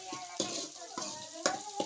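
Onions sizzle and fry in oil on a wood-fired stove, with a steady crackle and a few sharp clinks of stirring spread through.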